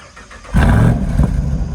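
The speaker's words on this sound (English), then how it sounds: "we're gonna get a cold start for the Jeep" A Jeep Wrangler Rubicon 392 cold start: after a brief quiet moment, the engine catches and roars up loud with a deep low rumble, then settles into a heavy, rough idle.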